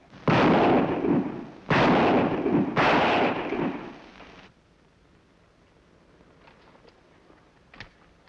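Three loud revolver shots fired with blank cartridges in a Western TV episode, each a sharp crack with a rolling echo, spaced about a second apart, followed by quiet.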